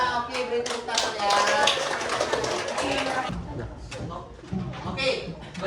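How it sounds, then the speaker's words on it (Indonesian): Classroom applause from students during a lesson, a dense burst of hand clapping mixed with chatter and voices, fading unevenly toward the end. "beri tepuk tangan ya"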